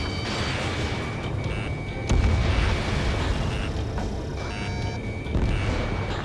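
Missile explosions from the Ace Combat 7 air-combat game, a dense roar of repeated blasts layered with game sound effects and beeping tones, with sharp louder bursts around two and five seconds.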